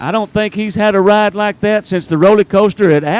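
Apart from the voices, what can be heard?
None of the usual background noises is heard.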